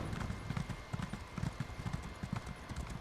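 Hooves clip-clop in a steady rhythm as a steed is ridden in The Elder Scrolls Online, each footfall a soft, close thud repeating evenly over a faint background hum.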